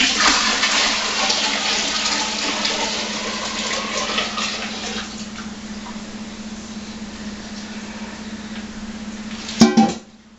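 A cooled second batch of cooked apples is poured into a pan for homemade spiced cider, making a continuous rushing, gurgling liquid sound that fades gradually before a brief clunk at the end.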